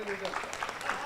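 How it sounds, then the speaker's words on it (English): Audience clapping fills a convention hall at a health writers and influencers convention, a dense, steady wash of hand claps at moderate volume with voices mixed in. "So can I ask you to clap for 2 minutes,"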